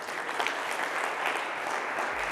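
Audience applause at an education summit in India fills the whole stretch: dense, steady clapping from a large crowd, loud and continuous, with no talking.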